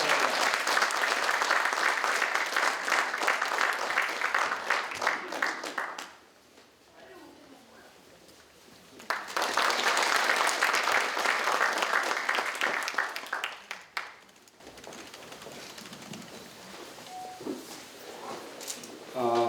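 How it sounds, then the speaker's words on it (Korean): At a Democratic Party year-end closing ceremony, loud crowd applause welcomes the party leader in two long bursts separated by a quieter gap, and speech follows afterward. "큰 박수로 맞아주세요"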